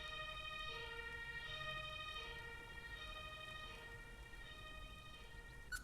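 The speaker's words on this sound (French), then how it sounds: "Renvoyez l'ambulance pour accomplir l'objectif." Wailing ambulance siren from a French-language emergency rescue video game, a steady electronic two-tone wail with harmonic bands running the whole time over a constant background bed, moderately loud and with no talking.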